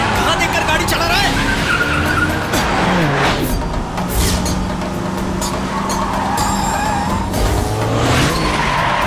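Car skidding while being driven, tires squealing and engine roaring over a busy, loud scene with crashes and shifting engine tones, with shouted voices mixed in.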